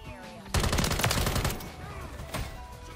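Rapid automatic gunfire from a weapon in the video game Modern Warfare 3, a dense burst of close, punchy shots lasting about a second and then trailing into scattered reports and game noise.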